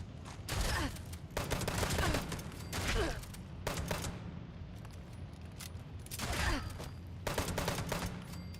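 Video-game gunfire in Fallout 76: repeated bursts of rapid shots in clusters separated by short pauses, fairly loud and crisp against low background noise.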